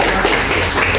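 A classroom group of students applauds group 3, dense and continuous clapping heard close and loud throughout the second with no talk over it.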